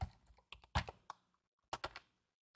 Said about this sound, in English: So we're just typing column one and then tab across to column two.